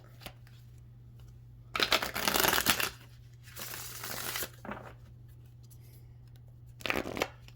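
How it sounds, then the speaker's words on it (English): Cards are riffled and shuffled in several quick bursts, close up, separated by short quiet pauses. "Let's give one more shuffle and then we'll cut the deck."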